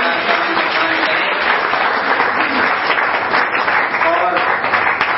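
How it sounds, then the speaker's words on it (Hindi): An audience at a cartoon festival applauds a cartoonist: loud, dense clapping from many hands, sustained and even from start to finish with no talking over it. "जोरदार तालियों से हमारे इस महान कलाकार का सम्मान करें"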